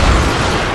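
A loud, close dynamite blast in the Western shooter Call of Juarez Gunslinger, a single broad booming burst filling the short moment with rumbling noise.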